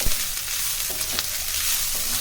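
Ginger, garlic and green chilli fry in a pan with onions on high heat, giving a steady, close sizzle with a few stirring scrapes, no voices.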